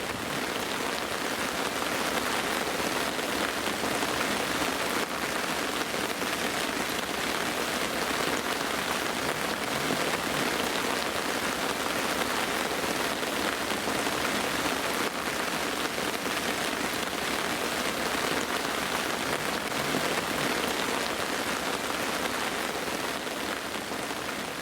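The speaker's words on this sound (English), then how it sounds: "It's chucking it down at the minute" Heavy rain pours down on a carp-fishing bank in November, a dense, steady hiss of drops drumming on surfaces, loud and unbroken throughout with no voices.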